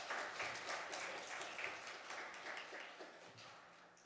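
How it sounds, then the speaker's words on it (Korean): Congregation applauding at a church retirement thanksgiving service for elders and deaconesses, a steady wash of many hands clapping together, distant and fairly faint, fading slightly toward the end. "다시 한번 박수."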